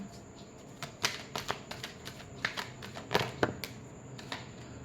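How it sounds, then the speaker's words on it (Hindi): Tarot cards being shuffled during a reading, a run of soft papery riffles and sharp card snaps at an irregular rhythm, close and fairly quiet with no talking. "last shuffle"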